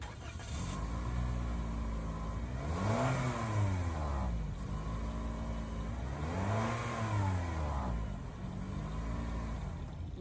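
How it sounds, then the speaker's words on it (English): A 2021 Toyota Corolla SE engine idles, then revs twice, each rev rising and falling in pitch, heard close and alone with no talking. "I'm gonna start up each car so that you can see if you can tell a difference."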